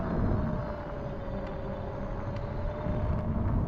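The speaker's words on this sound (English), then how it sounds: "Definitely hearing a plane." A big airplane flies overhead, a steady low broadband roar with a faint hum, heard outdoors on an e-bike ride in Azusa Canyon under light wind noise.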